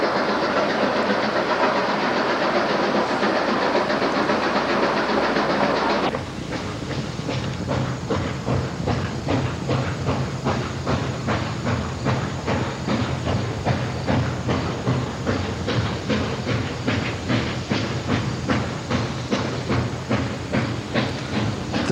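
Loud, steady hiss of a steam locomotive, joined after a few seconds by a rapid rhythmic chuffing and clatter that continues throughout.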